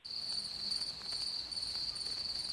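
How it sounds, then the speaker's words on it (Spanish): A cricket chirps over a telephone line, a continuous shrill trill with a brighter pulsing overtone, steady and fairly loud with no voices over it. "Ahí estoy localizando al grillo."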